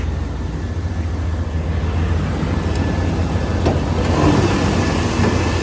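A 1990 GMC K1500 pickup's 350 cubic inch 5.7-liter V8 idling with the hood open, a steady low, smooth rumble heard close by and unchanging throughout, with no talking.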